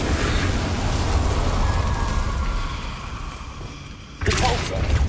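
A fire spell blasts out in the video game Hogwarts Legacy, a loud roaring burst under dense combat noise that fades briefly before a fresh sharp flare near the end.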